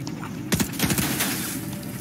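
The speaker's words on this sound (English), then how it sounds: "who are you shooting up there?" Gunfire in the video game Fortnite: a quick cluster of sharp, rapid shots rings out at moderate distance over a steady background hum.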